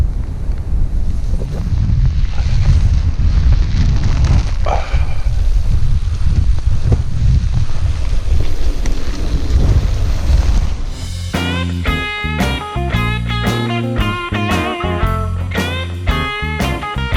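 Strong wind buffets the microphone outdoors on a gravel loop walk near Hollinsclough, a loud continuous rumbling roar for about ten seconds, then music takes over for the remainder.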